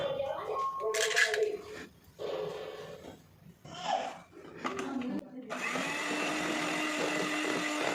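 Electric hand mixer beating butter and egg into a batter for a bakery-style pudding cake, a steady motor whir that starts and stops in short bursts, then runs continuously and close for the last few seconds.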